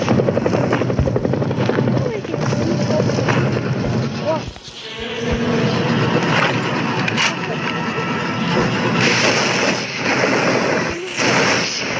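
Several helicopters flying in within a Skibidi Toilet animated episode, a steady loud rotor drone throughout with a brief dip midway, overlaid with scattered booms and bursts of action effects.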